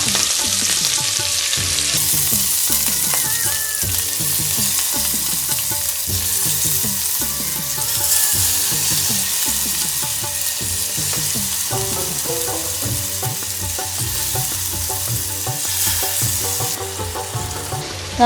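Loud, steady sizzling of curry leaves in hot oil, crackling continuously with rhythmic scraping and stirring throughout, no voices.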